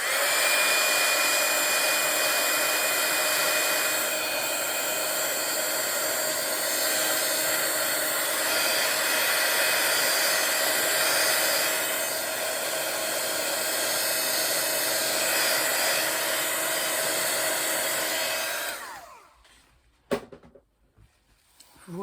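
A hair dryer blows steadily and loudly up close on a watercolor painting for nearly twenty seconds, its whine holding even before switching off, followed by a few soft clicks and handling noises.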